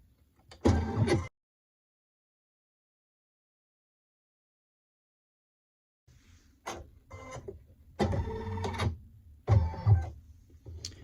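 Embroidery machine running a placement stitch in 40 weight thread, a short mechanical burst followed by silence, then a longer stretch of rapid, busy stitching in several close, fairly loud bursts.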